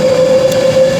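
Avanti West Coast train at Coventry station on the West Coast Main Line, heard as a loud, steady electric whine with a rumbling undertone, close by and continuous.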